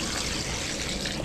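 Water pours steadily in a continuous splashing stream, close and fairly loud, with no voices.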